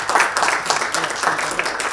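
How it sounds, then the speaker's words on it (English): Audience applause at a business conference session, a steady, moderately loud wash of clapping lasting about two seconds. "we all should give a round of applause for ease of doing business"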